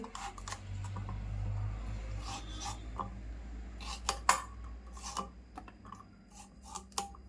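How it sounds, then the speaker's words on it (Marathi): A knife chops tomatoes roughly into thick pieces on a board, giving irregular knocks and scraping taps of varying loudness over a low steady hum. "आता टोमॅटो पण कापते"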